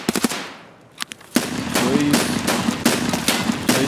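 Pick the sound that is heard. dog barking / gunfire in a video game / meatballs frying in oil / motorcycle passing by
gunfire in a video game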